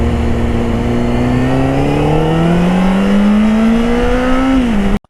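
A new sport motorcycle engine revs hard and close, its pitch climbing steadily in one long pull before dropping back and cutting off abruptly, with no voices over it.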